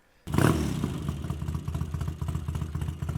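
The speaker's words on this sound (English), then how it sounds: "These are aftermarket Dunstall replicas which give it a more boisterous sound" A classic Triumph Bonneville T140V motorcycle runs through aftermarket Dunstall replica mufflers, a boisterous, steady pulsing exhaust burble that opens with a sudden rev and settles into a lumpy, rhythmic idle close to the microphone.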